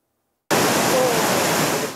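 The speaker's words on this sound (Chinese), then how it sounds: "好大雨造成山区溪水暴涨，不断往马路上灌" Swollen mountain stream water rushes onto a road during a typhoon, a loud, steady roaring wash that starts abruptly after a moment of silence.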